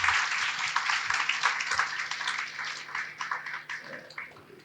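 A crowd applauding at a toppers' talk event for UPSC civil services candidates in Jaipur, a steady wash of clapping that begins strong and gradually fades over a few seconds.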